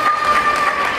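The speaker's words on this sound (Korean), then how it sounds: "오늘 박수 한번 보내주세요" A steady wash of audience applause at a friendly badminton match, filling the second evenly with dense clapping and crowd noise, no clear words.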